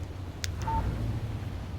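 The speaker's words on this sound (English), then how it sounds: "Text message from Barry." A brief electronic phone alert, two quick high beeps and a short tone, marks an incoming text message in the Alan Wake Remaster game, heard alone over a low ambient hum.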